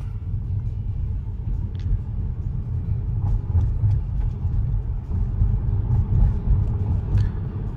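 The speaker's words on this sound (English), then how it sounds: "I will tap the accelerator to confirm it's safe to go through the green light" Tesla Model S P100D rolling through a green-light intersection on Autopilot, giving a steady low road rumble and tire hum from inside the cabin, continuous and even for several seconds with no talk.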